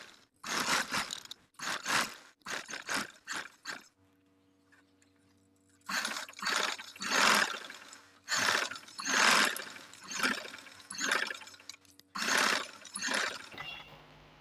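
A sewing machine stitches cord piping onto folded fabric, running in short stop-start bursts of rapid mechanical rattling with brief pauses between, fairly close and unaccompanied by talk.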